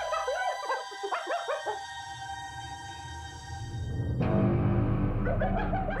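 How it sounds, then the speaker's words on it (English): Excited yips, yelps and whooping calls from several hyenas fighting over food in quick bursts, giving way to a louder, rougher rumbling scuffle with squeals over steady background noise. "He knows the hyenas are close and are fighting over food."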